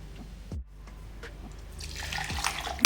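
Two cups of water poured or run into a vessel for grinding coconut with cardamom, a soft steady splashing that swells louder toward the end, with a couple of low knocks early on.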